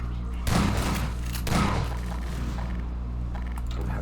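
Enemy guards firing in a Dishonored-style stealth game level: two heavy bursts of gunfire with booming thuds, about a second apart, over a steady low game ambience with faint mechanical clicks.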